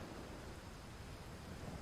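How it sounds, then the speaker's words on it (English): Steady rain ambience in the game Bastion, a faint, even hiss of broadband noise with no distinct drops or breaks, heard alone without talk. "now that it's started raining, the ambience has certainly changed"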